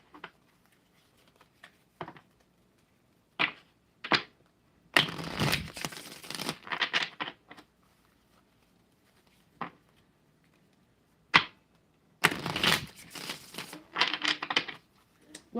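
An oracle card deck, Avatar in the City, is shuffled by hand in a quiet room: scattered soft taps and flicks, then two longer flurries of riffling card noise, close and crisp.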